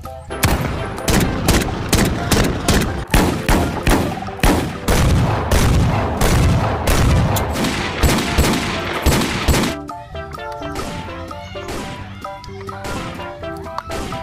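Sharp pistol gunshots fire in fast, dense bursts, loud and close, then thin out into lighter scattered pops and clatter.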